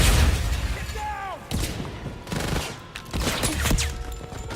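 A grenade blast and combat noise in the game 007 First Light, with sharp booming bursts and rattling debris at a loud, close range, while someone talks over the action.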